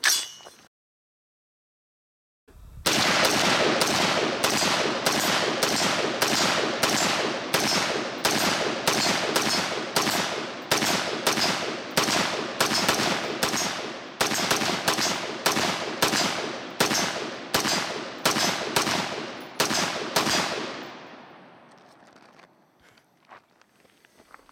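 An HM Defense CommanderMB5 rifle fires about thirty fast, loud shots close by after a short silence, each crack sharp and distinct. The shots stop and trail off into faint clatter and rustling.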